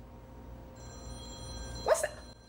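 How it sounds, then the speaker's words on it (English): A mobile phone rings indoors with a repeating tonal ringtone that starts softly and grows louder, with a brief sharper burst near the end, and no talk during it. "Oh, that's my phone."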